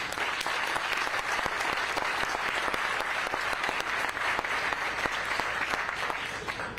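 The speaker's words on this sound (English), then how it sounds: "Can we give them a round of applause?" Sustained applause from an audience at a hospital update event on the Carilion Taubman Cancer Center, a dense wash of many hands clapping steadily and fairly loud throughout, with no speech over it.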